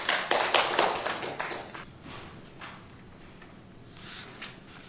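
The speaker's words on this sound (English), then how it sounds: "I was just curious when clapping is appropriate" Audience members at a city council meeting clap in a short, fairly loud burst that tapers off within about two seconds, leaving a quiet room with a few faint taps.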